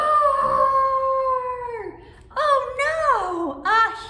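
Voices imitating a dinosaur roar during a children's singing and storytelling session, drawn-out howling cries in two or three surges, loud and close.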